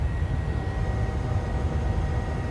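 A PMDG 737-700 airliner in Microsoft Flight Simulator rolls for takeoff from Boise. It makes a steady, loud roar of engine and rushing air with a faint high whine, constant and unbroken.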